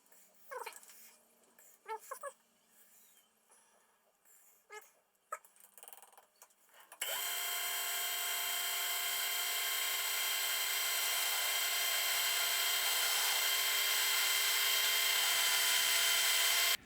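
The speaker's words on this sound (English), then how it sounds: "I just started to cut the beginning of the smaller portion, of course, of this bar." Machine tool cutting a metal spacer bar: after a few seconds of faint scattered clicks and knocks, a loud, steady high-pitched whine with a grinding edge begins abruptly and runs unbroken for about ten seconds.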